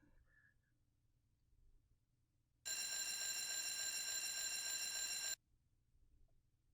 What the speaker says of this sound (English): it woke me up at 6 p.m., as you can see, because it is a 12-hour alarm clock